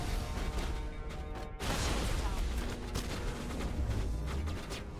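Heavy video-game gunfire in a sci-fi shooter, a dense continuous barrage of shots and blasts with one brief cut in the middle, loud and close, with no talk over it.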